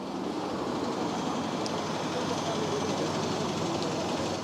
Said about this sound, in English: Sorry about the traffic noise and the noisy bus.